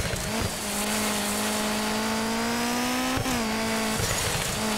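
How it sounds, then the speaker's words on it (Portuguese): Rally car from the game Rally Racer Dirt sliding sideways on a tight corner, a loud steady engine drone with tyres scrubbing and brief shifts in pitch as it skids. "Só um toque no acelerador e o carro sai de lado."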